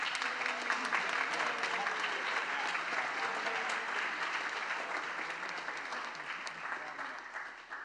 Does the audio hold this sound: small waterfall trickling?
no